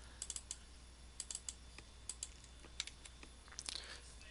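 Keys clatter on a computer keyboard while someone types text into a Microsoft Word 2016 document, with quiet, irregular bursts of clicks and short pauses between them. There is no voice.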